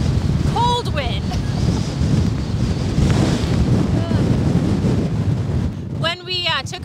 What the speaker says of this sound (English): Crazy wind. Cold wind.